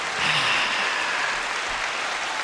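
Brief applause from a small live studio audience at a NASCAR finale show, a steady wash of clapping that holds evenly for a couple of seconds.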